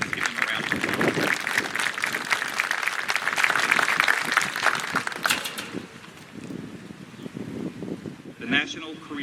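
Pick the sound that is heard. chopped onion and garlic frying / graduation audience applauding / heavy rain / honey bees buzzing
graduation audience applauding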